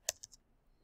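A few quick, faint clicks of fingers tapping computer keyboard keys, three light strokes in under half a second, near and isolated.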